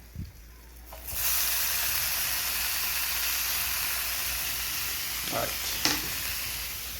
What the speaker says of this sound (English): You're taking the bacon and we're going to let it, well, saute